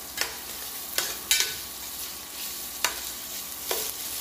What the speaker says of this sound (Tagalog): Gigisa natin siya sa maraming luya.